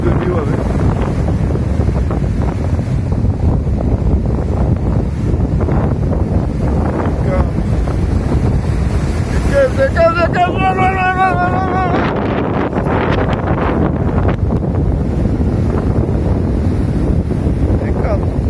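Hurricane Isaias surf pounds a Florida shore under heavy wind buffeting the microphone, a loud continuous roar of waves with a person talking and exclaiming over it.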